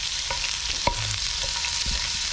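Shrimp stirred in leftover burger grease at a campsite during a heat wave, a steady low sizzle with a few scraping clinks of a utensil, close by and with no talking.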